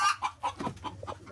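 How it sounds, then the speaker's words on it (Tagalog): A chicken clucking close by in a rapid series of short, sharp calls, alone with no talk over it. "Bugawin mo daw yung manok, ate dyan."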